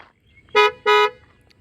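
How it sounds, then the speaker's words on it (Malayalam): Two short, loud blasts from an aftermarket double horn fitted to a 2024 Maruti Suzuki Celerio ZXI car, sounded close by with a brief gap between them and no other sound. "അപ്പോൾ അത് മാറ്റിയിട്ട് ഞാൻ ഇങ്ങനെ ഒരു ഡബിൾ ഹോൺ ഇതിൽ ചെയ്യിപ്പിച്ചിട്ടുണ്ട്."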